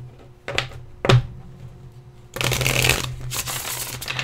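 A deck of cards is shuffled in a few short riffling bursts early on, then a longer, louder flurry of rapid card shuffling fills the second half, close and alone without talk.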